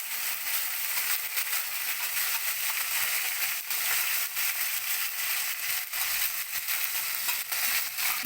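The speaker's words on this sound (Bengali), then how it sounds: "সেই মশলাটা আমি তেলেতে পুরো মশলাটাকে আমি দিয়ে দেবো" Ginger and garlic masala paste fries in hot oil for an egg biryani, a steady hissing sizzle with soft crackles, moderately quiet and continuous, with no voices.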